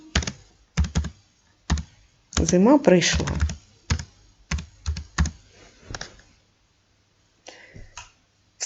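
Quick bursts of clicking keystrokes on a computer keyboard, close and crisp, stopping and starting, with a brief spoken phrase partway through.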